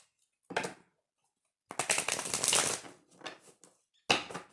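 Tarot cards are shuffled in a few short, crisp bursts of riffling and flicking, with brief silences between them and no voices.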